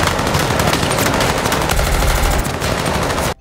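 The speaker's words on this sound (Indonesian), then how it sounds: "Adegan tembak-tembakan pun terjadi antara penjaga dan peserta." Heavy, rapid gunfire from a film shootout in Squid Game 2 rattles continuously in dense bursts, loud and close, then cuts off abruptly.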